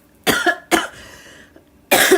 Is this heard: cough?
yes